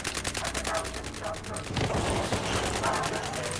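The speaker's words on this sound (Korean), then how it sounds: "뭔가 갑자기 어디서 총소리가?" Gunfire from the Fallout 4 Nuka World video game: rapid, evenly spaced automatic bursts running continuously and loudly throughout, with heavier overlapping shots joining in partway.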